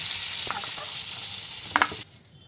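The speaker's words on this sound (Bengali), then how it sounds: "আলু সেদ্ধ করে রেখেছিলাম, সেগুলো একটু নাড়াচাড়া করে নেব। আলুগুলো লালচে হয়ে এসছে" Boiled potatoes fry in oil in a pan with a dense close sizzle and a few stirring scrapes, then the sound drops away abruptly near the end.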